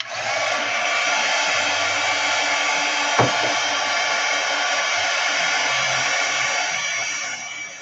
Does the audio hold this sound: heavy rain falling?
no